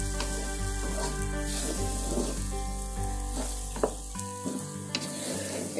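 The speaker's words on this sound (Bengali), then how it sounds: "এখন আমরা এটাকে নেড়ে দিচ্ছি একটু নেড়ে এটাকে" Khichuri of rice in mustard oil fries in a pan with a loud, steady sizzle while it is stirred, with scrapes and knocks of the spoon standing out above the continuous frying.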